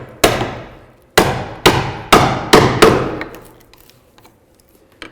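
A mallet strikes a chisel while chopping a mortise in wood, with six loud, close, ringing blows at an uneven pace, each decaying quickly, followed by a few faint taps.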